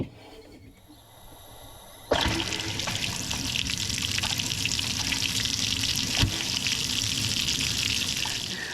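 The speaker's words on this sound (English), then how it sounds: "So for a 150 gallon tank, I think this is gonna end up taking about 30 minutes to fill up." A float valve fills a 150 gallon farm stock tank, starting as a faint trickle and then opening into a loud, steady rushing gush of water that continues unbroken.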